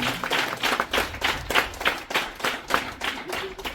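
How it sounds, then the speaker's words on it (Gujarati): Audience at a charity event in the remote village of Gundiya, Gujarat, breaking into steady, loud applause with dense overlapping claps that hold for several seconds. "ઓકે જોરદાર તાળી પાડી"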